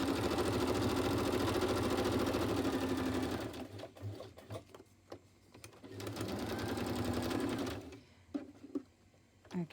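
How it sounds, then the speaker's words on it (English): A sewing machine stitching through a book page notebook, a steady fast mechanical whir running in two long bursts with a quiet pause and small clicks between them, fairly near and alone. "you could glue it, but I think I'll sew it"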